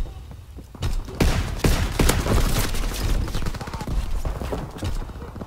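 Shotgun fire in Call of Duty WWII, several heavy booming blasts spaced a second or so apart amid dense battle noise, with someone talking over it.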